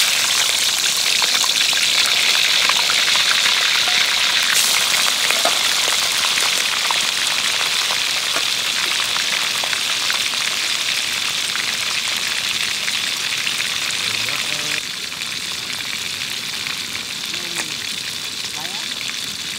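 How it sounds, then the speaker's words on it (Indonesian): Parau fish frying in a pan at a forest campsite, a steady loud sizzle and crackle of hot oil that runs the whole time with small pops, slightly quieter near the end. "Kita menggoreng ikan parau guys."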